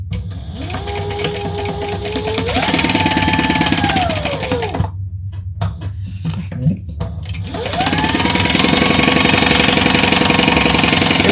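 A sewing machine basting modified leather runs loudly and close, its motor whirring up to speed, then pausing briefly with a few small clicks before starting again for a long, steady run.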